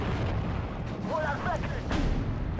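Grenade bundle explosions in the wartime strategy game Steel Division 2, heavy rumbling blasts and booms over a continuous battle din, with a couple of sharper bursts near the end.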